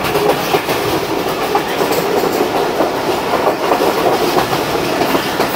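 The Jaffar Express crosses on a Pakistan Railways line, its wheels giving a loud, steady clickety-clack with dense rail roar that fills the whole stretch and stays close throughout.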